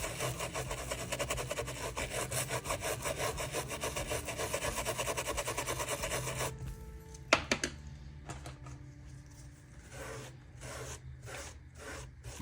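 A scrubby brush rasps back and forth over a rubber stamp to clean it, a steady close scratching that runs for several seconds, then breaks into shorter, sparser strokes and a few sharp knocks near the end.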